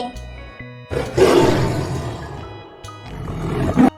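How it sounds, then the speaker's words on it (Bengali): A tiger roars in a short burst, a loud rumbling growl that swells near the middle and then trails off, followed by a second, shorter roar near the end, with no talking over it. "বয় বাঘ।"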